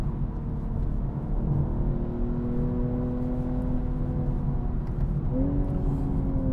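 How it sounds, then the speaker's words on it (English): A BMW M240i xDrive coupe's engine hums steadily from inside the cabin, its pitch climbing slowly through the revs, then dropping and rising again after a gear change. "such a nice sounding engine when you're on it though"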